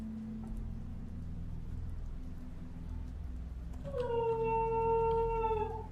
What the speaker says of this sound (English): Because the dog is barking.